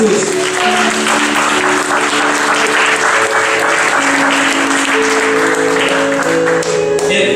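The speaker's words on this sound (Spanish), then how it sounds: "Denle un fuerte aplauso a Cristo Jesús." A church congregation breaks into loud, sustained applause that fills the room steadily throughout, with a faint musical tone or organ-like hum sitting underneath.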